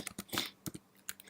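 A handful of quick keystrokes on a computer keyboard, close and crisp, about seven or eight clicks in an uneven rhythm with short pauses, no voices.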